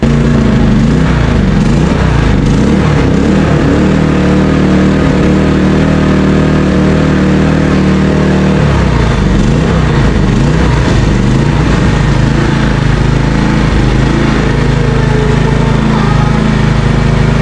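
A Toyohama 5500i portable generator engine runs steadily during a delivery test, loud and close, with a constant droning hum that shifts in tone partway through and carries on without a break.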